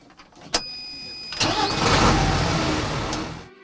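A modern tractor engine starts with a sharp click, then a mid-pitched engine rumble swells and holds steady for a few seconds, close and fairly loud, before dropping away.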